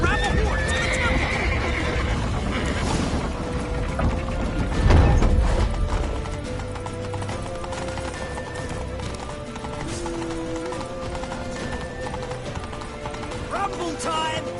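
In The Witcher 3, a horse neighs and its hooves clip-clop at a gallop over a dense game soundscape, with shouting voices and mechanical rattles mixed in.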